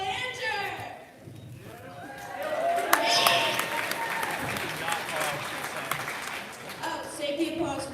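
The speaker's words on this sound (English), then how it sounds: "save the applause for the end, I guess" A gym crowd applauds during player introductions at a Maine Class A girls basketball game between Brunswick and Gray-New Gloucester. The clapping is steady and mid-level, with an announcer talking over it.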